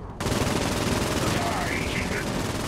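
Dense, continuous automatic gunfire rattles loud and close in Saints Row 4, a steady unbroken burst filling the whole stretch.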